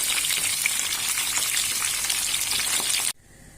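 Carrots frying in hot oil give a loud, steady, dense sizzle with fine crackling throughout, which cuts off abruptly near the end to near silence.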